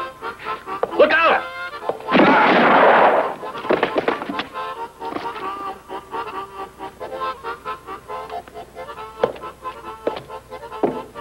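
Gunfire in a 1967 spaghetti western, with a loud sustained burst of shots early on, then scattered sharp cracks and thumps under ongoing voices and background noise.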